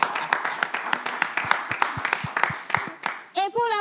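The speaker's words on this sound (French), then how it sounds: "je vais vous demander d'abord d'applaudir Monsieur Aloyi et le raccompagner à" A studio audience applauds with a run of sharp, fairly sparse hand claps that rise and fall, then a voice speaks over the end.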